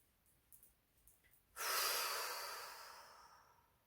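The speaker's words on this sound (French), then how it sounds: "Relâchez, respirez" During a guided relaxation exercise, a single long, slow exhale follows a few quiet breaths. It is close and soft and fades gradually with no talking.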